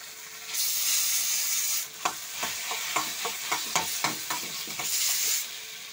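Boiled potatoes tipped into a pan of hot oil already frying bay leaves and dried chili, a steady sizzle broken by a run of sharp scraping stirs, with the sizzling swelling again at the end.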